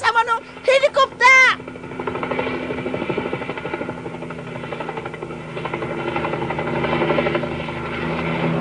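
A helicopter sound effect from a Japanese puppet show plays loud and continuous with a steady whirring rotor drone, following a brief burst of voices at the start.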